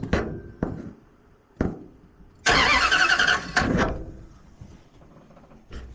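A 1971 Plymouth Satellite drag car is cranked with a starter button: several short clicks and bursts, then a loud harsh roar for about a second and a half, a brief second burst, and a final click.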